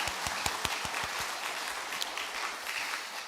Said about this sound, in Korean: 우리 영광의 박수로 하나님께 영광을 한번 올릴까요?